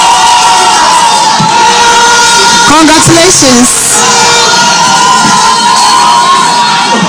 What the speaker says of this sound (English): In 5 seconds, you can cheer on your contestants.